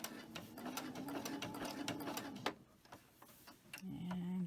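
A domestic sewing machine fitted with a double needle runs in a steady rapid whirring stitch, then stops abruptly, leaving soft handling noises before a motor hum starts again, close and without speech.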